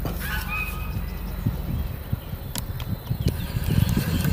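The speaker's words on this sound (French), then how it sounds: "Oh ta gueule le canard! Enfin l'oie plutôt." A goose beside the Charleroi-Brussels canal lets out a few short, nasal honks near the start, set against steady outdoor background noise and low rumble.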